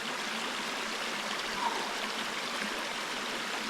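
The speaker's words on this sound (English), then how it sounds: "These little river streams are always nice and cold." Small cold mountain river stream rushing steadily and close, a continuous broadband wash of flowing water with no voices.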